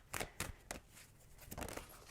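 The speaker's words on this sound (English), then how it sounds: "I feel compelled to shuffle." Tarot cards are shuffled by hand in a few quick, soft riffling bursts, quiet and close with no talking.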